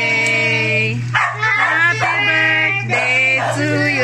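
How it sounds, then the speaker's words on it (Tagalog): A family dog howls and yips along with a group singing a birthday song at a home celebration. Sustained tonal howls rise and fall in sweeps over a steady hum, mixed in with voices. "Nakikanta yung aso namin,"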